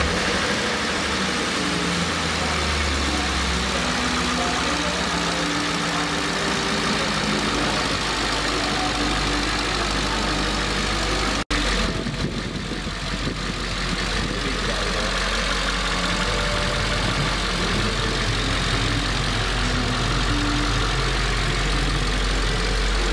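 A BMW E39 M5 engine idles steadily after exhaust repair work, a continuous low rumble close to the microphone with a brief break partway through and no talking.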